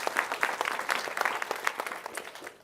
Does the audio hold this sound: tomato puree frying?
no